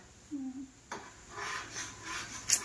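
Paneer mixture is stirred slowly in a pan over low gas, making soft, faint scraping strokes with a brief metallic clink near the end.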